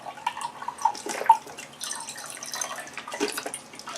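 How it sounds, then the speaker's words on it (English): Liquid spills and drips onto a table while a jar is being filled, a few small irregular splashes and patters, close and fairly quiet, with faint handling noises and no talking. "Oops, see, I spilled a little bit."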